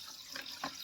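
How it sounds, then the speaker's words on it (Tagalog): Water from a tap pours into a homemade party drink with ice, a brief, quiet running trickle with a couple of soft splashy bursts and no talking. "Dagdagan lang natin siya ng tubig."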